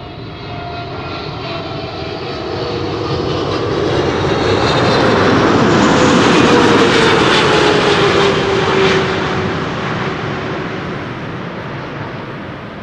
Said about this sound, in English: That was quite a bit of rudder use after the main gear touched down.